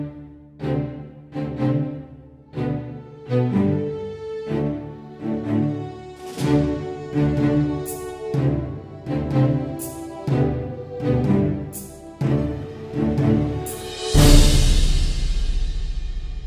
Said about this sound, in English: This library is very appropriately named.